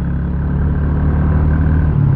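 Kawasaki Estrella 250 long-stroke single-cylinder motorcycle engine running at a steady low rev, a close, even thumping chug with light mechanical clatter and no talk.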